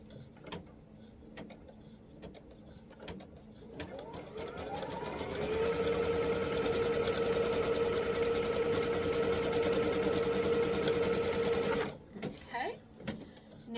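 A sewing machine stitching a piece of white fabric down for a quilt block, starting after faint handling noises, then a steady mechanical whir with a sustained whine for several seconds before stopping abruptly, a voice talking around it.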